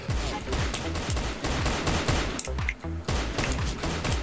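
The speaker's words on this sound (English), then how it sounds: "Hey, who's that shooting me?" Rapid bursts of gunfire in the Roblox shooter Arsenal, repeated sharp shots in quick succession, loud and dense, with overlapping weapons and no clear talk.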